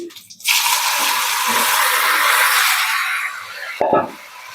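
Cumin and sliced kankoda vegetable hit hot oil in a pan: a loud, steady sizzling hiss bursts in abruptly and holds, with a brief clatter of stirring near the end.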